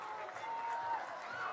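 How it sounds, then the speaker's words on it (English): The Riverton crowd at a high school baseball playoff game gives a standing ovation, a faint, distant wash of applause and cheering with a voice talking over it. "Gets a standing ovation here from the Riverton crowd"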